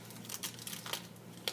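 A plastic bag crinkles and rustles softly as lab items are taken out of it, quiet intermittent crackles close by over a faint background hum.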